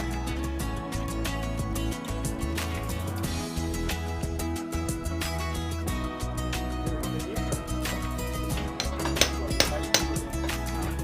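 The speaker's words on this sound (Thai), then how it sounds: "ตอกครับตอก" Rapid metallic tapping and clinking of a hammer driving a part into a Yamaha VR150 two-stroke engine during assembly, continuous and fairly close, with busy mechanical clatter throughout.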